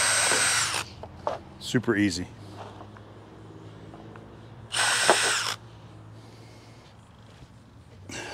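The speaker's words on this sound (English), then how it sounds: "So we'll go ahead and get these guys drilled out." Power drill fitted with a 5/32 bit boring screw holes into a replacement RV fender, with two short bright bursts of drilling around someone talking nearby.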